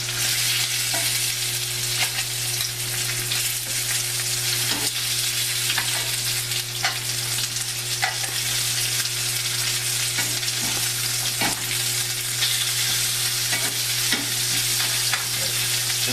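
Lollipop lamb chops searing in a hot pan give a steady, close sizzle and crackle with occasional pops, continuous and alone with no talking.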